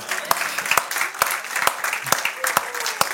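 A church congregation applauding the Lord during a service, full rhythmic clapping with sharp regular accented beats like a hand-clapping pulse, loud and sustained with voices mixed in.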